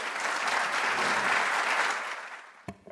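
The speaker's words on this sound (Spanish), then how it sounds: "Un aplauso," Seminar audience applauding a speaker being introduced, a dense sustained clapping that swells and then fades out after a couple of seconds, with a few last isolated claps at the end.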